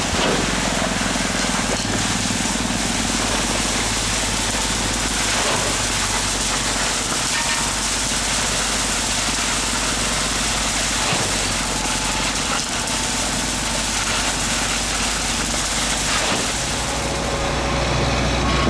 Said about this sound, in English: So they're using the pump truck to place the concrete from the furthest distance from the pump truck.